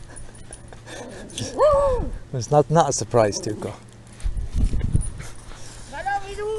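A dog barks and yips a few times in short bursts around the middle, with a whimpering tone, close by and under the conversation of people talking nearby outdoors.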